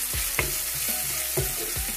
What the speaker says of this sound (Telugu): ఆనియన్ ని ఒక 1 నిమిషం పాటు ఫ్రై చేసుకుందాం